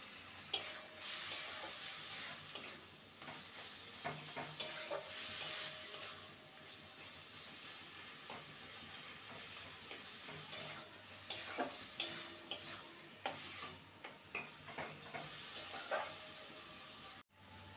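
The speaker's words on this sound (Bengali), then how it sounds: "প্রায় 2 থেকে 3 মিনিট ভালো করে নেড়ে নিয়েছি, এখনও জল জল ভাব আছে, আর একটু শুকোবে।" Taro stems fry in a pan for a vegetarian dish, a faint, continuous sizzle broken by regular light taps and scrapes of a spatula stirring close by.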